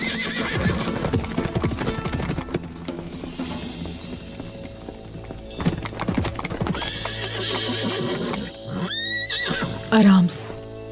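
A horse gallops with steady clip-clop hoofbeats and neighs loudly near the end, with urgent voices shouting over the action and a brief tonal burst around the ten-second mark.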